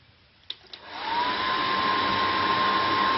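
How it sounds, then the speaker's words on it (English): After two quick knocks, a hair dryer switches on and blows air through a metal pipe into a freshly lit fire, a loud steady whoosh with a thin whine that holds to the end. "why I need the hairdryer."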